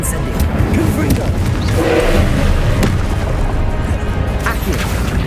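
A Confringo explosive spell going off during a Hogwarts Legacy battle, a loud, dense booming blast with crashing impacts sustained for several seconds amid continuous combat noise.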